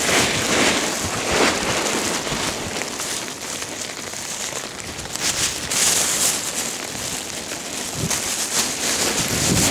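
Wind gusts buffet the microphone beside a fishing pond during rainy weather, producing a continuous rushing roar with louder surges and crackling bursts.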